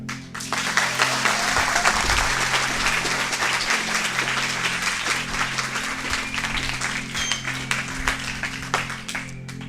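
A church retreat audience claps hard and steadily for nearly ten seconds, a dense, loud wall of applause with no pauses.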